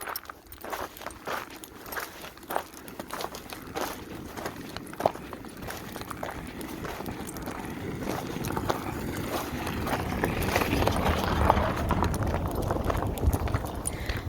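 Footsteps crunching steadily over thick gravel outdoors, a continuous run of close, uneven steps that grows a little louder toward the end, with no talking.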